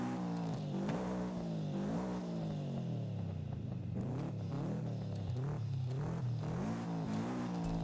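Porsche engine in Forza Horizon 5 revs steadily through rising and falling pitch sweeps, a continuous loud racing-car drone with repeated acceleration and gear-change dips throughout, no talk.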